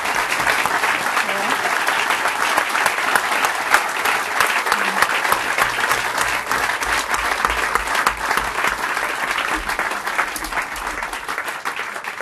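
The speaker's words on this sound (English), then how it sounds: "So can we please have a round of applause for Alex McGillis?" Sustained audience applause at a lecture, a dense, even wash of many hands clapping that stays loud and steady throughout, with faint voices underneath.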